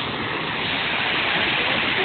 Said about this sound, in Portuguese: estou agora a parte de cima da cachoeira aqui de Nobres